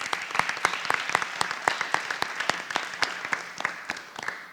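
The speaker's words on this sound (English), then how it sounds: "Let's give her a round of applause." An audience at a high school military signing ceremony applauds, many hands clapping in a steady, crisp wash of claps at moderate distance, holding evenly and then fading slightly.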